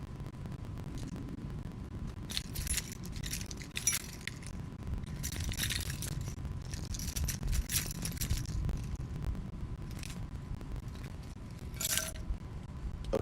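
Keys jangle in several short metallic bursts, separated by pauses, over a low outdoor rumble.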